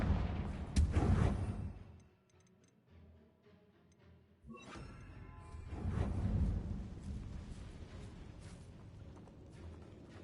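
Confringo fire spell blasts in Hogwarts Legacy erupt as heavy booming explosions with crackling debris, a loud burst at the start and another after a lull, rumbling away with no talk.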